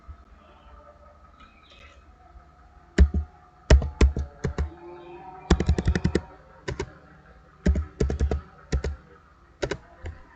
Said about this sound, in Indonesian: Pertama kita mengetik dulu kode petugas.